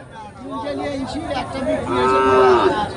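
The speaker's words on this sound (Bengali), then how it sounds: "এই লাল কালার ষাঁড় গরুটা" A red bull at a small-cattle market moos loudly and close by, a long drawn-out lowing call that swells toward the end, with faint crowd murmur behind.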